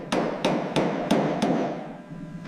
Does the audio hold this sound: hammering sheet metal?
yes